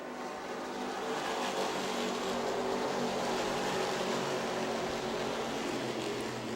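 A steady, loud engine roar drones on without a break as Grand National Sportsman stock cars run laps at Music City Motorplex in Nashville, with a constant mechanical hum and no voices.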